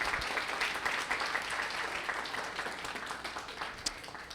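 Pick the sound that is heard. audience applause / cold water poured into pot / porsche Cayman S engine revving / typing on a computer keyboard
audience applause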